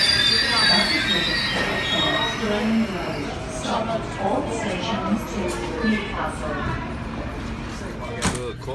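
A packed passenger train departs Broadmeadow Station bound for Brisbane, with loud wheel squeal and rumbling railcars close by, intermittent clanks and knocks, and people talking throughout.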